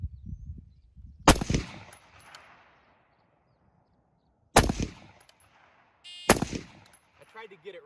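Three loud, close rifle gunshots during a standing-to-kneeling qualification drill, the first alone and the last two a couple of seconds apart, each with a ringing metallic tail, brief talk before the first.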